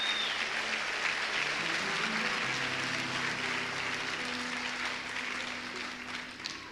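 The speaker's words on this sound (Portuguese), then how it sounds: "pode aplaudir, meu irmão." A church congregation claps together in a steady, full round of applause that holds for several seconds and then begins to fade, with faint voices mixed in underneath.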